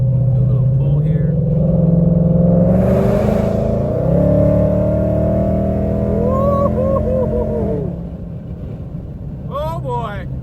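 A 1000-horsepower Whipple-supercharged Ford Dark Horse Mustang in sport mode accelerates hard, its engine climbing in loud, rising sweeps through the gears with supercharger whine, heard close from inside the car.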